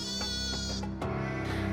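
Sheep bleat loudly and up close in a wavering, nasal cry that breaks briefly near the middle before a second bleat carries on, with no talking over it.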